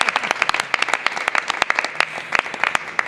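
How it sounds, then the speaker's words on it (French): An audience at a music show bursts into sustained applause, many hands clapping densely and unevenly throughout, with a few sharper individual claps standing out. "On peut quand même acclamer encore"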